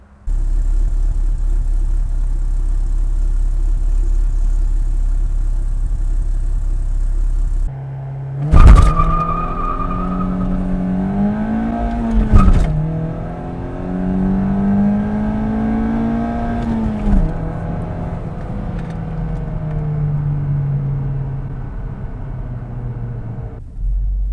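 An Opel Astra OPC engine idles, then revs hard and accelerates through gear changes on a race track, the engine note rising and falling loudly as it drives off.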